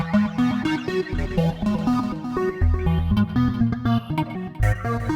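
Serum 2 synthesizer patch playing a busy, rhythmic run of stacked tonal notes with punchy low hits, loud and continuous without any voice.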